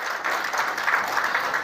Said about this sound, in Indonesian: tepuk tangan bagi Yesus